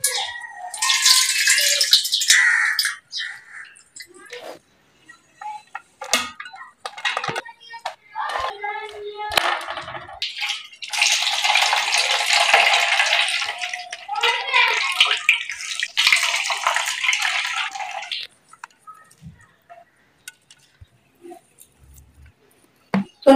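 Grated potatoes and onions are squeezed by hand inside a muslin cloth, giving bursts of splashing and dripping water with wet squelches and rattles. Pauses fall between the bursts, and someone talks intermittently.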